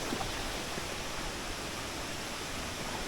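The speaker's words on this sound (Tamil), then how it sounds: "மலை மேலேருந்து தண்ணி ஃபுல்லாக வருது" Water pours steadily off the mountain at Jalagamparai waterfall in Thirupathur, a dense, even rushing roar that fills the whole scene without a break and carries no voices.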